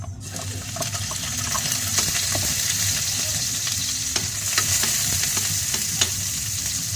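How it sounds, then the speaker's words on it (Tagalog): Garlic and onion sautéing in a pan for a shrimp pancit, with a steady loud sizzle and frequent scraping stirs throughout, no talking. "Magigisa na po tayo ng bawat tsaka sibuyas."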